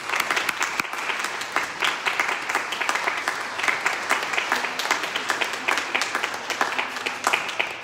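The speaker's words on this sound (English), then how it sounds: "You can give them a clap now." A congregation claps steadily inside a church at Christmas Mass, sustained applause with a lively, even rhythm that continues throughout without voices.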